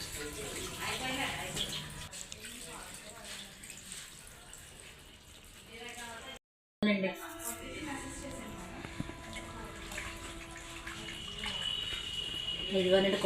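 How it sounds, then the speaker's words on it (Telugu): Water is poured into a fish curry pot set on a charcoal brazier, a soft running splash heard close under ongoing talk, with a brief gap midway and faint clinks after. "కొంచెం వాటర్ అయితే వేసుకుందాము."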